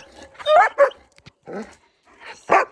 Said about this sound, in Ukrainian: в мене тут невоспитані є совсем е, собаки